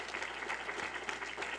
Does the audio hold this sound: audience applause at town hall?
yes